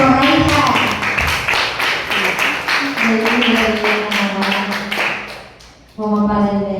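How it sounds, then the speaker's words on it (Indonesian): Clapping for a student's closing school presentation about whether Mars could be a new home for humans, a group of hands tapping in an uneven rhythm under loud talking voices, fading out before voices resume. "Ya, beri tepuk tangan untuk Profesor Raisa."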